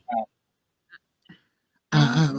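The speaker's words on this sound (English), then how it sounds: "I'm coughing over here." A person gives a single short, sharp cough close to the microphone, followed by a couple of faint small throat noises, and then a voice starts talking loudly.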